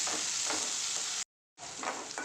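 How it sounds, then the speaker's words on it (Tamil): Curry leaves and onion sautéing in a pan for a potato poriyal, a steady broadband sizzle with soft stirring scrapes, cut by a brief silent gap midway before the frying resumes. "கொஞ்சம் கருவேப்பிலை, எல்லாத்தையும் நல்லா வதக்கிட்டுக்கணும்."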